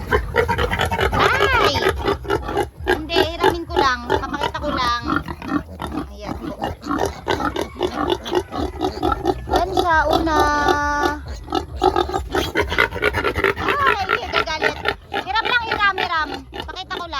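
Native piglet oinks and squeals repeat throughout, mixed with steady nearby talking and background farm noise.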